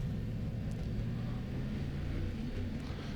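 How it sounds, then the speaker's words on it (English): Sim racing game with race cars rumbling past, a continuous low engine drone that stays loud and steady throughout, with no talking. "there's traffic going past, so I'm going to wait for number 13 car to go"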